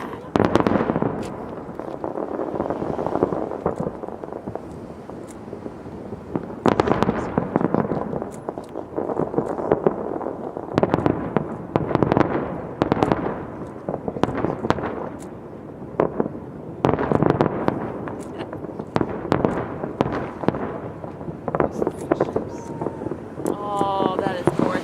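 Chinese New Year fireworks bursting over a river beside Manhattan, New York City, repeated sharp booms and crackles echoing at a distance, mixed with wind buffeting the microphone and people talking excitedly nearby.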